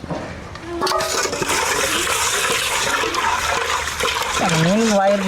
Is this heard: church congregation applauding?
no